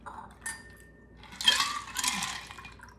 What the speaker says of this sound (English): We're now going to strain it and pour it into our Nick and Nora glasses.